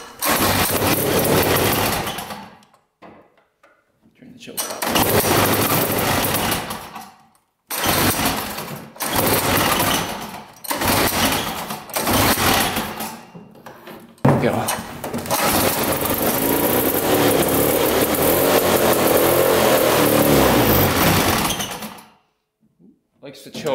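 Old snowmobile sled, unused for about 30 years, sputtering to life after gas is poured on the carburetor, then revving in loud bursts with brief stalls and gaps, with voices talking around it.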